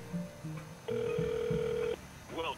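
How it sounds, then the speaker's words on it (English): Telephone ring on a call placed from an old Nokia 5185i cellphone: a long steady tone burst lasts about a second, framed by fainter softer tones and a brief warbling sweep at the end. "But I will call this and we should be able to hear it ring."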